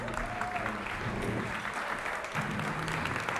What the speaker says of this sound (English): Round of applause for Ace.